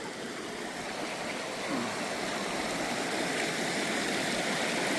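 Cold, deep creek water on a mountain hiking trail rushes and splashes steadily, a constant close wash of flowing water that grows slightly louder over a few seconds.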